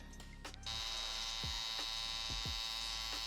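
Electric shaver running steadily on hair during a taper fade at a barbershop, a continuous close buzz with a few brief clicks and bumps as the clipper moves against the head.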